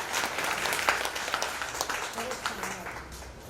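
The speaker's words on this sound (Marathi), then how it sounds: "एकदा जोरदार टाळ्या होऊन जाऊ द्या." An audience at a women's gathering for a spiritual discourse and haldi-kumkum event claps together in a dense, fairly distant applause lasting a few seconds, with voices murmuring beneath.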